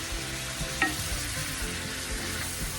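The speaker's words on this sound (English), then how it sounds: "It literally has been like maybe 3 minutes since I put this steak in here." Steak frying in a pan sizzles in a dense, continuous crackle, close and steady, with a faint clink partway through and no talking.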